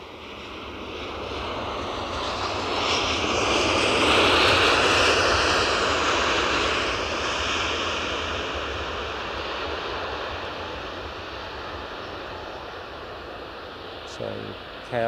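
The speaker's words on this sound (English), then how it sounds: "So KLM in from Amsterdam Schiphol." A KLM airliner arriving from Amsterdam Schiphol at Edinburgh airport gives a roaring jet engine sound that swells to a peak and then slowly fades, with some windy rush underneath and a brief clatter near the end.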